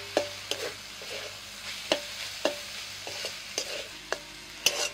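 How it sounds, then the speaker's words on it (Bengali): Greens being stirred in a pan with fried poppy seeds, the spoon scraping and knocking in a run of sharp, irregular strokes over a soft, steady sizzle, close and fairly loud, with no talk. "ঢাকা খুলে একটু নাড়াচাড়া করে দিচ্ছি।"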